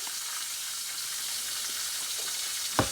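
Steady, close hiss of sausages sizzling in a frying pan with onions and garlic, with one brief sharp crackle near the end.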